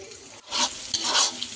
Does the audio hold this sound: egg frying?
yes